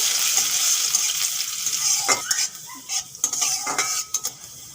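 Chopped ginger and garlic fry in oil in a pan, a steady sizzle with a few scraping stirs and light utensil knocks toward the end, close up and with no speech.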